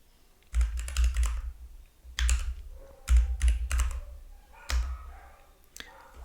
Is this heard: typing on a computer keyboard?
yes